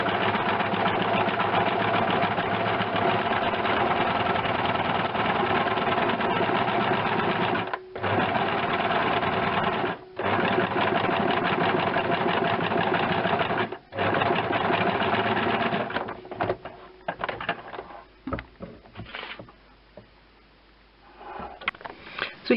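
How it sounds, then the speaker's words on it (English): A standard domestic sewing machine runs in long steady bursts, stitching freehand the outline of a bird design on fabric, its fast motor hum and needle chatter close and loud, with a few brief pauses and stop-start stitches near the end. "What I'm going to do is just sew with the machine the outline"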